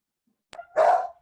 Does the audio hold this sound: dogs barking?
yes